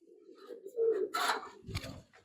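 Low, murmuring coos of Bezi breed pigeons in a breeder room run through the clip, with a few louder bursts of rustling or fluttering partway through.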